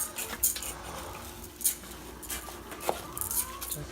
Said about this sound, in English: I'm going to stir this up a little bit, get the rice mixed, get the onions mixed in with the rice